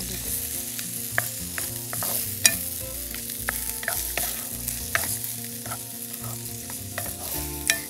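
Tomatoes and a piece of cinnamon sauté on a low flame for a beef curry, a soft continuous sizzle broken by scattered spatula clinks and scrapes against the pan.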